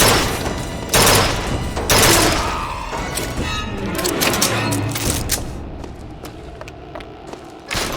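Gunfire from a gun in a video game, loud close bursts of shots in rapid volleys with heavy thumps at the start, thinning to scattered sharper cracks later, with a voice briefly heard.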